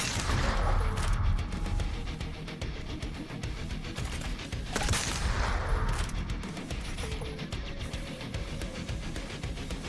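Weapon fire from the first-person shooter DOOM Eternal, set in The Blood Swamps, rattles on steadily for the whole stretch with heavy booming impacts and a constant dense din of game action.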